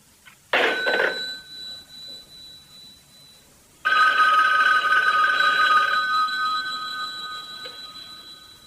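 A telephone rings in two bursts, a short ring followed by a longer, louder one that slowly fades, with a bright electronic bell tone and no talking, in a scene from the 1978 horror film Halloween.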